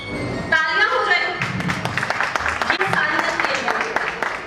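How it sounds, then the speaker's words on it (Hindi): Applause and clapping from a crowd rise after a short pause, mixed with a voice speaking over the noise. "तालियां हो जाए"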